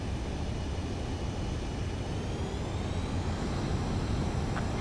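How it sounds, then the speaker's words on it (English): A jet aircraft comes in to land in the Ace Combat 7 video game, its engines giving a steady, loud, broadband roar that holds evenly throughout with no voices. "Runway is clear. You have permission to land."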